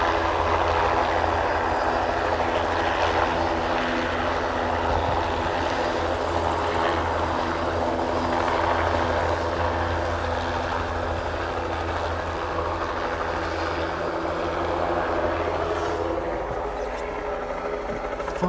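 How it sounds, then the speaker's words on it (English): A helicopter drones steadily for the whole stretch, a loud continuous rotor and engine roar with low throbbing bands, close and apparently overhead, with no talk over it. "the helicopter's moved off"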